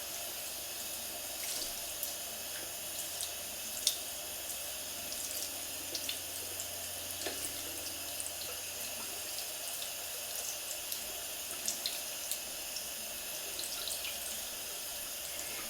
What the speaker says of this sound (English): And then just wash the brush out.